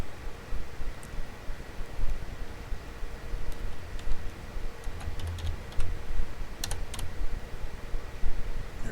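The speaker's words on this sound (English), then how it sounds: "So I'm going to type one in." Typing C++ code on a computer keyboard: sparse, light key clicks scattered over a steady background hum, with no talking.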